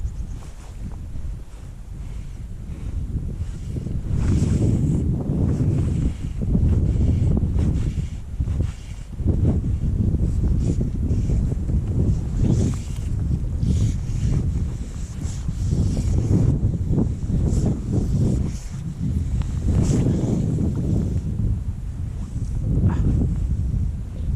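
Steady, loud wind rushes and buffets the microphone beside a river during winter fly fishing, gusting in waves throughout with no voices.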